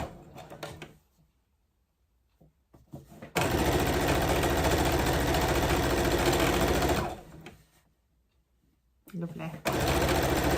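A sewing machine stitches quilt pieces in two loud, steady runs of a few seconds each, with quiet pauses between them where the sewer stops to line up the edges.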